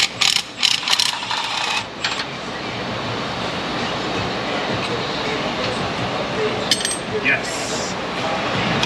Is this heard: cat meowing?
no